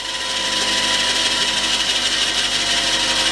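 Steady, continuous abrasive rubbing as a screw for a Sportfisher outboard is ground down by hand against a sharpening stone, holding an even level throughout with no pauses and no talking.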